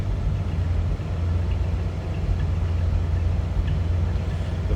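A 1959 Oldsmobile Super 88 Holiday engine runs steadily close by, a deep low rumble holding constant without revving changes and no talk over it.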